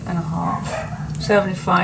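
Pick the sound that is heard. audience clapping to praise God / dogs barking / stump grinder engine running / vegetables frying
dogs barking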